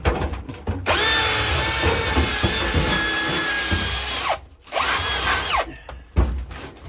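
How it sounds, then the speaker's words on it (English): A wire brush on a power tool scrubs a burned weld spot on steel, a loud steady grinding whir lasting about three seconds, then shorter bursts of brushing with brief pauses between. "let me take the wire brush to that"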